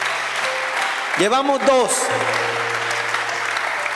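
A church congregation applauds in a steady broadband wash while a voice speaks over it, with a brief rising and falling tone in the middle.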